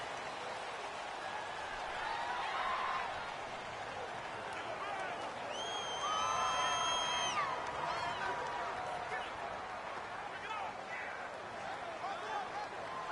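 Home stadium crowd in Madden NFL 19 during a Bengals vs Bears game, a steady loud roar with rising whistles and shouts under game commentary.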